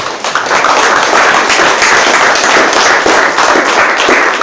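A church congregation claps loudly and steadily in praise, a dense, continuous roar of many hands filling the room with no break.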